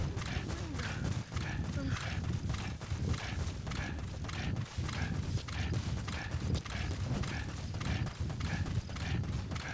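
Hooves of a wild donkey clop in a steady walking rhythm over ground in Metal Gear Solid V, the repeated soft thuds running continuously under a low ambient game background.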